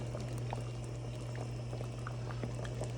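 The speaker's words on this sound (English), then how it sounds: "Turn the heat up on that, let it boil just a little bit, get it really nice and hot." Gravy bubbling at a steady boil in a pot on the stove, heard up close as a dense continuous bubbling with a constant low hum underneath.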